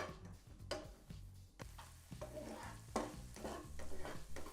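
Seasoned meat and onion stirred in a pan for a Crunchwrap Supreme filling, with a close steady sizzle broken by repeated scraping strokes of the spoon, growing busier toward the end.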